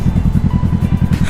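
A 2018 Kawasaki Z650 motorcycle engine runs steadily up close, with a loud, even low throb that pulses at a quick, regular beat. No voices are heard.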